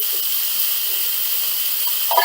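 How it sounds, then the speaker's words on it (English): Broccoli in melted butter in a cast iron pan with the heat just switched off, giving a continuous bright sizzling hiss at steady loudness and a few small pops near the end, with no voices. "Kind of move this broccoli around in the butter, soak up what I put in there"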